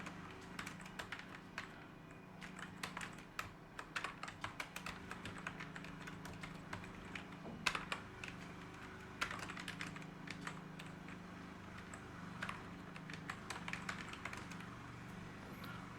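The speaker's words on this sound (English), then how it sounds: "Now you can type your text." Rapid keystrokes on a computer keyboard while text is entered in Google Docs, continuous uneven clicking nearby over a low steady hum, no speech.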